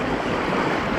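Ocean waves and surf around a sea kayak at Cave Point, heard as a loud, continuous wash of water with strong wind buffeting the microphone, no voices.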